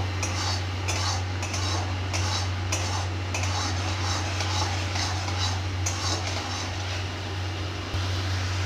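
Food being stirred and sautéed in a pan, repeated scraping and clinking of a utensil against metal in a loose rhythm over a loud steady low hum, close and continuous.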